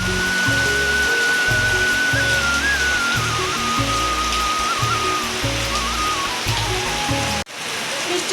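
Rain falling steadily outside, a dense continuous hiss of drops across surfaces, fairly close, with a faint tonal whistle drifting over it before a brief cut near the end.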